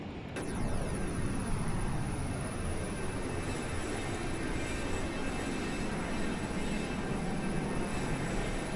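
A Lear35 business jet climbing, heard from the cockpit through a headset filter: a steady, muffled engine roar and hum that holds level throughout after a brief quieter start.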